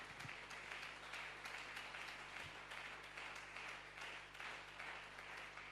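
A church congregation applauding together, a steady wash of many hands clapping that fills the space evenly and continuously at moderate loudness, with a low hum underneath.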